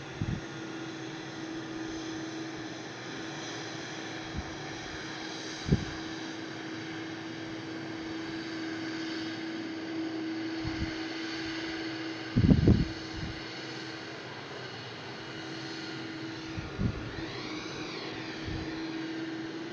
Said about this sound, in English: Voilà, the Dreamliner is taking off.